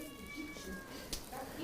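A gray, fluffy domestic cat gives a brief meow mixed into a faint household background, with thin steady tones running underneath.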